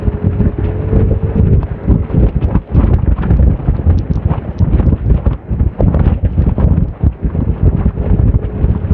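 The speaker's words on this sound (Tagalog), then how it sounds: "Malakas ang hangin ha," Strong wind buffets the microphone during a road bicycle race, a loud continuous rumbling roar with gusty bursts throughout.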